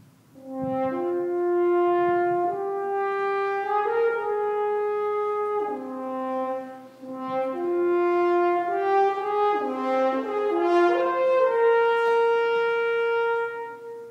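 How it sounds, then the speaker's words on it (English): A French horn with tightly wound tubing plays solo, a smooth, mellow melody of sustained notes rising and falling in two phrases with a brief breath between them, clear and close, with no talk. "so we're going to start over here with the French horn."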